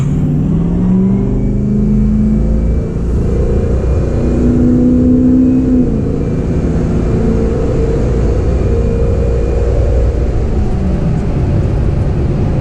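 A Ford 6.0 Powerstroke diesel pickup fitted with a FASS fuel pump accelerates from a rolling start at about 20 mph, its engine a loud, steady, deep drone with a rising pitch that holds throughout, with no talking.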